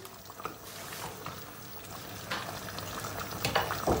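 Spices with black pepper and red pepper stirred in a pan make a faint sizzle under soft scraping stirs that grow a little louder toward the end, close and with no talking.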